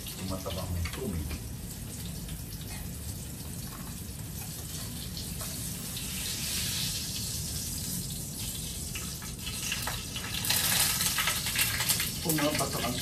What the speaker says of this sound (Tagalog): Pumapatak ang tubig sa aking kamay.